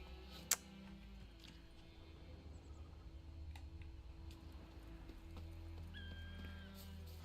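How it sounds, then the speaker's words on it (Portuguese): A horse in The Witcher 3 startles with a sharp snort near the start, followed by soft hoof movement and a faint whinny later, all fairly quiet against low ambient game sound. "Assustei o cavalo, velho."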